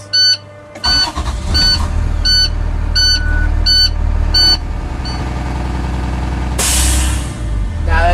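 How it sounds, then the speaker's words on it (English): A large diesel bus engine idles steadily and loudly while refilling empty air brake tanks, with a series of repeated beeps, ending with a sharp hiss from the air dryer releasing. "we have to start the bus and we have to refill the tanks."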